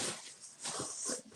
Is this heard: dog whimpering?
yes